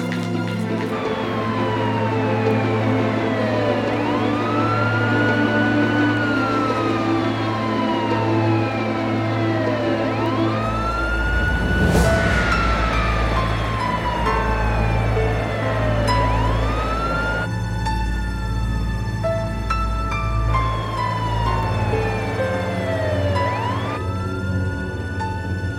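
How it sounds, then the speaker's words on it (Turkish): An ambulance siren wails loudly and continuously with sweeping rising and falling tones, joined by other layered siren tones and a low steady engine rumble throughout. "Ambulanstayız şimdi"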